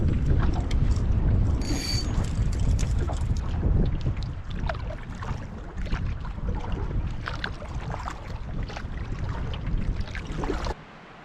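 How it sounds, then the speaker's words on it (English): Strong, gusting wind roars across a lake around a canoe, buffeting the microphone in loud, uneven surges that drop off suddenly near the end, with faint water and hull sounds beneath. "Yeah, that wind is definitely picking up again."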